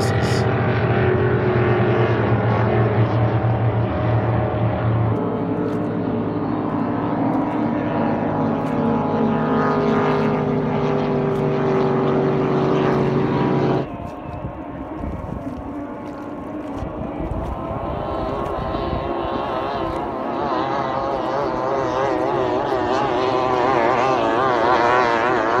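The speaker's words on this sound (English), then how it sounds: "Using two iPhones to record video and time lapse of the miniature hydroplane races." Miniature hydroplane boats race on a lake, their small engines whining and droning continuously with shifting pitch as they pass, first near and loud, then farther off and thinner after an abrupt drop.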